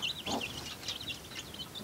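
Young chickens squawk and peep in sharp, repeated bursts after a chick is stepped on in the brood, close and fairly loud, with no talking.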